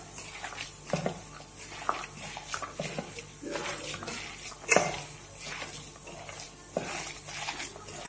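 A whole egg is stirred into a raw minced-beef cutlet mixture in a bowl, giving soft irregular scrapes and clicks of a utensil against the dish at close range with no talk.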